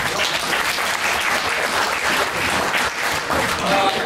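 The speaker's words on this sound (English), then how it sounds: "Give yourself a round of applause." A crowd applauds steadily throughout, dense, loud clapping filling the room without pause.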